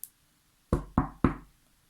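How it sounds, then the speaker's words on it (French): Three firm knocks on a wooden door, portraying a wolf knocking in a children's fairy tale, come in a quick evenly spaced series after a single faint tap, close and dry with no talk. "Le loup se rendit alors pour la 3e fois à la porte, frappa"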